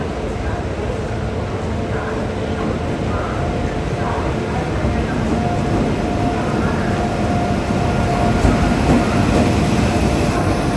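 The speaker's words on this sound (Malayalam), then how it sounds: "പ്ലാറ്റ്ഫോം നമ്പർ 6 നമ്മളെ ട്രെയിൻ ഇപ്പോൾ വരുമെന്ന് കരുതുന്നുണ്ട്" A passenger train pulls in at platform 6 of a busy station, a loud rumbling roll with rhythmic wheel clatter building toward the end, with voices around.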